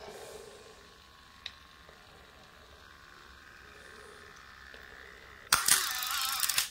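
A Canon T70 35mm camera fires its shutter during a test after a rough repair, a short mechanical burst near the end that sounds close and loud after a quiet stretch with a small click earlier.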